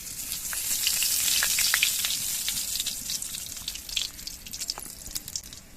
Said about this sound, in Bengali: এর মধ্যে আমি কালো জিরে ফোড়ন দিয়ে দিচ্ছি